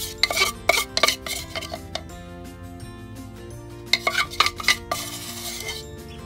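A spatula scrapes and taps against a container while emptying out leftover material, giving clustered clinking scrapes in short bursts, close and clear, over faint background music with no talking.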